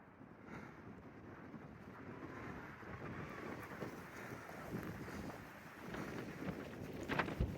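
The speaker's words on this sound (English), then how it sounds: "Wow, you can hear the wind." Strong wind roars steadily across an exposed summit near the top of Indian Mountain on a hiking trail, a continuous broadband rush with gusts swelling louder toward the end, no voices present.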